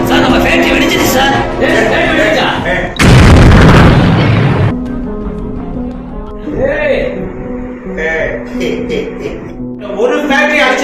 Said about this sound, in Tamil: நம்ம ஃபேக்டரி வெடிச்சிச்சு சார்